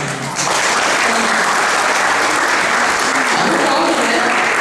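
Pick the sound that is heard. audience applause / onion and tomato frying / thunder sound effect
audience applause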